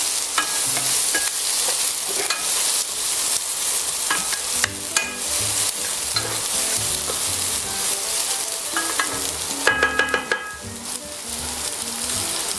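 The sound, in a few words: vegetables gently sweating in a pan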